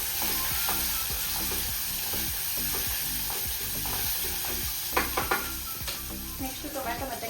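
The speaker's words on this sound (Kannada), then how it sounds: "ಇವಾಗ ಇದಕ್ಕೆ ಹಸಿಮೆಣಸಿನಕಾಯಿ ಹಾಗೆ ಈರುಳ್ಳಿ ಫಸ್ಟ್ ಹಾಕೊತೀನಿ" Green chillies and onion frying in a pan with ginger-garlic paste, a steady sizzle under rhythmic scraping and stirring strokes, with sharper clinks and knocks near the end.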